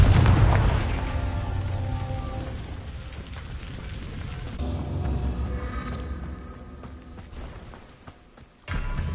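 A spell-cast explosion in the Hogwarts Legacy video game bursts loudly with a deep boom at the start, then rumbling, crackling debris that slowly fades and cuts off near the end.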